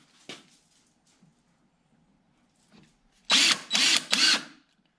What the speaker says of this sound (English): we'll drill a hole there